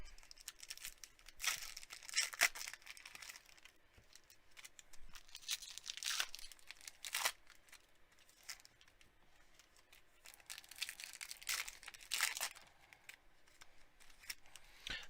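Topps Pro Debut baseball card packs being torn open, with repeated crinkly foil ripping and rustling bursts spread across the stretch, fairly close and moderately loud, with no speech.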